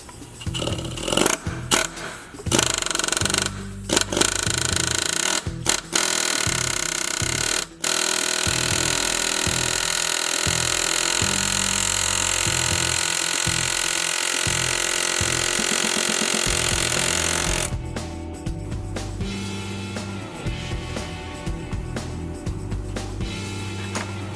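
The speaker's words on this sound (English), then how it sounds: "What I'm going to do is bump this thing, hopefully around, putting a groove in it first, or a little nick" A power tool grinds a groove into a stuck, over-tightened oil drain plug in a repair shop, a loud continuous rasping cut that stutters in short bursts at first, then runs steadily before easing off, with no speech.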